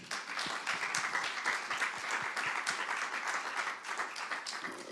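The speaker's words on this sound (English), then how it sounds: "I just want to give you another round of applause for making this incredible film" Audience applause after a film screening at a festival Q&A, a moderate, steady round of clapping from a seated crowd, fairly even in level and slightly distant.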